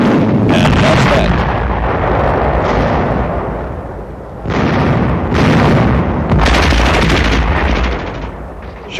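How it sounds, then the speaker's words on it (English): Loud booming blasts and bursts as magnesium incendiaries destroy an enemy supply shack in snow during 1950 US Army winter warfare training, several heavy explosions with a rumbling tail. "Short work is made of the enemy supply shack. Snow doesn't stop incendiaries employing magnesium."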